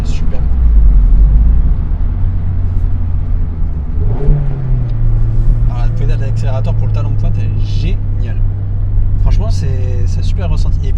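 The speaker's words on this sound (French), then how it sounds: "Et puis le son moteur est très agréable." A Mazda MX-5 engine, barely run in with about 1000 km, holds a loud steady drone that rises sharply around four seconds and then sustains a revving tone, heard from inside the car.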